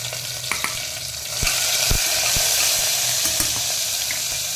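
Carom seeds (ajwain) sizzle in hot oil inside a pressure cooker while a Gujarati guvar (cluster bean) curry is made. A steady frying hiss swells after a quiet start, with a few sharp clinks of a spoon or lid, and no talking.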